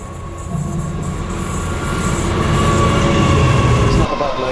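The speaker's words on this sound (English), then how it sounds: "We'll just get this other freight train out of the way." A freight train passes on the four-track West Coast main line north of Rugby, a loud continuous rumble and rattle of wagons rolling close by.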